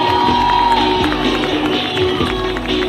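A crowd at the 2024 TT sidecar race winners' ceremony applauds and cheers, a steady dense wash of clapping and voices that stays loud throughout.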